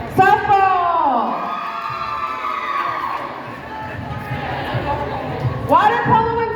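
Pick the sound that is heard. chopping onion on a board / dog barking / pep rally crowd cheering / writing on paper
pep rally crowd cheering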